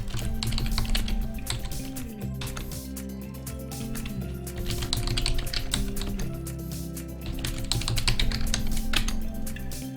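Fingers clatter on a computer keyboard entering a password, a close, continuous patter of rapid key taps over a low steady hum, with no talking.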